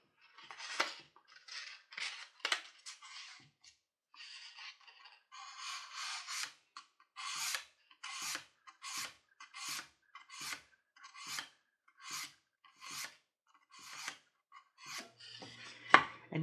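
A leather edge beveller being sharpened on sandpaper over the rounded corner of a strop, making a regular series of short, dry rasping strokes, close and quiet, with no talk.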